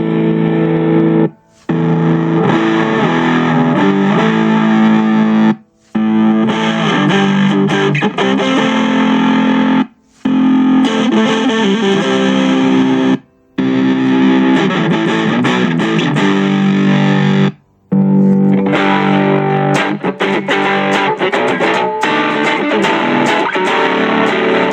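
Distorted electric guitar through a Digitech RP-155 multi-effects with amplifier simulation, loud sustained chords and riffs broken by several short silent gaps, dense and saturated throughout.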